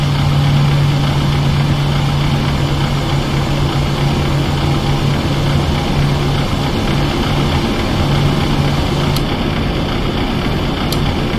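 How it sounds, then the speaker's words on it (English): Jet engines of a Boeing 737-800 in Flight Simulator X hum and whine steadily while spooling up, a loud continuous drone with a low tone, and two faint clicks of switches returning near the end. "And you can hear the engines spooling up."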